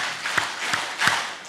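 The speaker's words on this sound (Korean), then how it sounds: "분위기를 바꾸기 위해서 박수 4번 시작." A church congregation at a Sunday service claps in unison, three or four distinct sharp claps spaced evenly over a soft murmuring room background, moderately loud and without speech.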